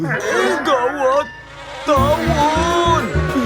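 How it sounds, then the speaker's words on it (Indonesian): Wasps buzz in a steady, wavering drone, close and fairly loud, mixed with excited shouting voices throughout. "Tawon!"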